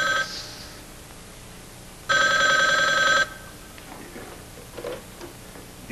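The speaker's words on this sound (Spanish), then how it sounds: "¿que nadie va a contestar el teléfono?" A telephone bell rings once in a film scene, a loud, bright burst of about a second alone, with quieter background sounds before and after.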